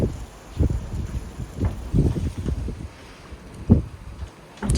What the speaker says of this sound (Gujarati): જબરજસ્ત પવન છે.